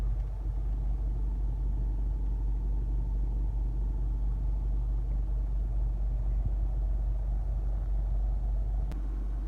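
A Honda CR-V 2.2 i-DTEC diesel engine idles with a low, even rumble, steady and moderately quiet throughout, heard close with no talking.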